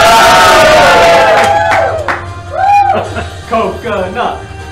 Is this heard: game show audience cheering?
yes